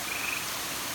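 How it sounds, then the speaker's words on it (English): A frog croaks at night near a lit mini golf course at Lake of the Ozarks, a faint, steady call set against soft outdoor ambience. "Oh, I heard a frog."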